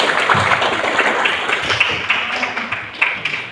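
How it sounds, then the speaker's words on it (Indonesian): A classroom group of students applauds, a steady patter of many hands clapping together for a few seconds at moderate volume with no talking over it. "Kasih tepuk tangan untuk kita semua."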